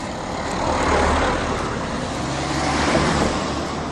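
Continuous roar of car and truck traffic passing nearby on a road, a broad steady rumble swelling slightly as vehicles go by.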